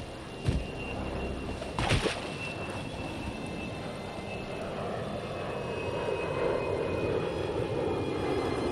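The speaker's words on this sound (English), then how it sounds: "an airliner engulfed in flames just passed overhead" A burning airliner roars overhead in the video game Bright Memory: Infinite, a broad steady engine rumble that swells slowly across the scene after a couple of sharp impacts near the start.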